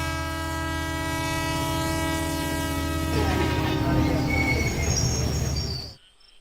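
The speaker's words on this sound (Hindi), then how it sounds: "हॉर्न देते हुए अंधेरा दूर करके स्टेशन पर आकर रुके ट्रेन।" A train horn blares in a long, steady tone, then gives way to the rumble and screech of the train rolling into a station and slowing to a stop, in an animated cartoon.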